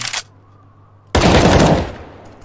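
M4 rifle fire in a competitive first-person shooter match: after a faint short pop and a near-silent pause, a loud sudden burst of rapid automatic shots rings out and tapers away.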